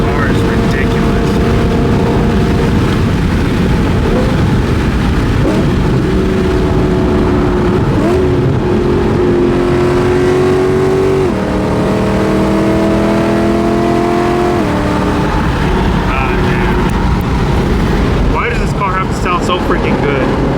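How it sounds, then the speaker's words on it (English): BMW M3 E92 with test pipes, its exhaust revving loudly with rising and falling pitch sweeps over a sustained roar, close by, with people talking over it. "Bro, the sound of this car is ridiculous."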